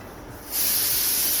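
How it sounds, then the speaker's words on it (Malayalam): A pressure cooker lets out a loud, sharp steam hiss that bursts in about halfway through and holds steady to the end, following a quieter stretch. "കുക്കറിനോട് വിസിലടിക്കില്ലെന്ന് പറ"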